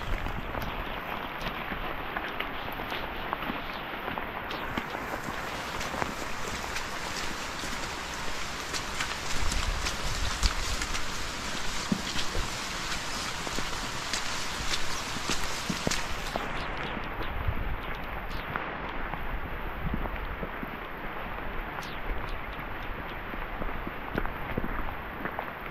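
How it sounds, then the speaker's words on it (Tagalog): Heavy rain pours onto a muddy rural road, a dense, steady hiss of drops with scattered splashes and footstep-like squelches, close and continuous with no talking. "kasi lumalakas na yung ulan"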